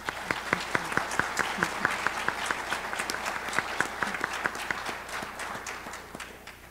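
Audience applause welcoming candidates at a public forum, a moderate room of clapping with distinct individual claps audible, steady for several seconds before thinning out.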